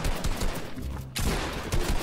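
Rapid bursts of Fortnite gunfire during a Halloween match, close and loud, sharp shots clustered in quick volleys with a short gap midway.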